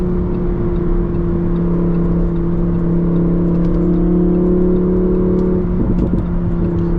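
Lamborghini Huracan EVO Spyder engine from inside the car on a Dubai drive, a steady droning hum with a faint rise in pitch and a brief shift near the end, close and continuous with no talk.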